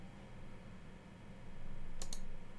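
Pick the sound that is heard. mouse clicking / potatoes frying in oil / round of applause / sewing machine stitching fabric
mouse clicking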